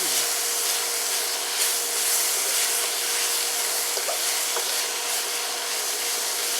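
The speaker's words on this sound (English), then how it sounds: "I'm going to let these cook in here, and I'm just going to keep stirring it around" Onions stirred and cooking in a wok on a NuWave induction cooktop, a steady, even hiss of frying with soft scraping and rubbing from the stirring, close and continuous with no talk.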